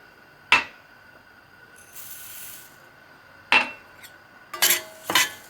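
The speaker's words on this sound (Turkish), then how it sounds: "Öncelikle firiklerimi biraz kavuracağım arkadaşlar." A few sharp metallic scrapes and clinks of a utensil against a pot as freekeh roasts in olive oil, spaced apart with quiet gaps, plus a soft rustling stir in between.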